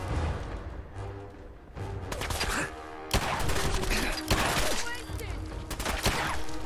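Repeated gunfire and loud blasts in the virtual reality game Fallout 4 VR, with sharp, close bursts clustered and echoing over a noisy battle backdrop, while a voice talks in between.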